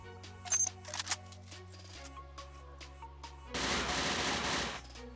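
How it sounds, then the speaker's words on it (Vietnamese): Machine gun fire from an MG in a video game, a sustained loud burst near the end following short earlier shots and game sounds, over steady background music. "Mình sẽ bắn thêm cái dòng MG này xem như nào."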